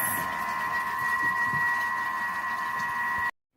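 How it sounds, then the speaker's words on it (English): A Thermomix TM6 sounds its signal that a batch of organic raspberry jam is ready: a steady electronic tone, clear and unbroken for a few seconds, then cut off abruptly into silence. "the machine just went off and let us know that our jam is ready"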